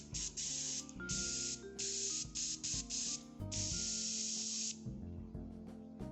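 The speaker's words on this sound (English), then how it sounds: "I set the airbrush to dispense at 20 pressure, 20 psi" An airbrush fed by a Mitsushi air compressor at 20 psi sprays in short and longer hissing bursts separated by brief pauses, close and fairly quiet, with no talk.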